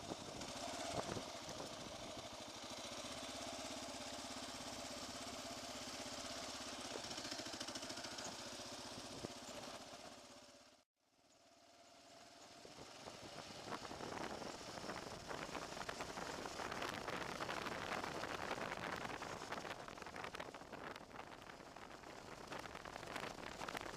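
A Kawasaki KLR650 dual sport motorcycle rides along the Iron County ORV trail, its single-cylinder engine droning steadily and roughly at close range, with wind rush and a brief dropout midway before the engine noise returns.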